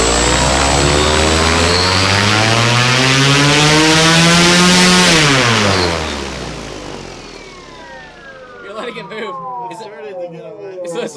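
Large DIY electric ultralight motors spin their propellers at throttle, a loud rising whine and roar that builds, peaks and then falls away as the throttle drops, with faint talk and handling noises at the end.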